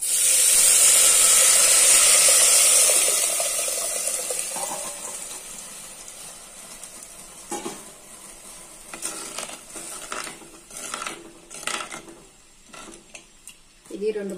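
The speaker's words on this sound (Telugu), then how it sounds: "ఇప్పుడు పోసేసానండి నీళ్లు" Water poured into tempered lentil batter for old-style Nellore pappulu sets off a loud hissing sizzle that fades over several seconds, followed by scattered stirring clinks while someone talks.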